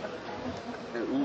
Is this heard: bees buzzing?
yes